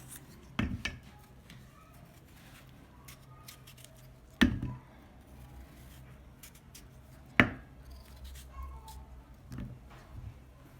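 Potatoes sliced thinly by hand with a knife on a board, giving a few sharp separate cuts spaced seconds apart against a quiet background.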